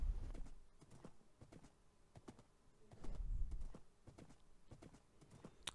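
In Minecraft, with the SevTech Ages modpack, a running horse makes quiet, irregular clip-clop hoof clicks that come fast and uneven, swelling slightly midway, with no voices.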